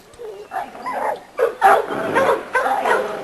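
Several dogs in a breeding dog yard bark, yip and whine close by in rapid overlapping bursts, loud and busy throughout.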